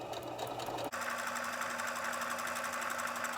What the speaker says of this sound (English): sew from corner to corner